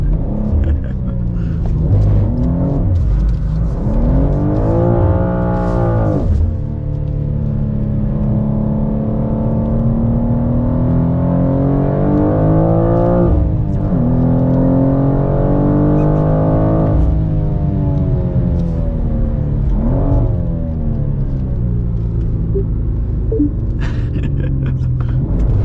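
Engine of a 2023 BMW M2 with a six-speed manual during drifting, revving up and down in repeated rising and falling sweeps, loud and close from inside the car.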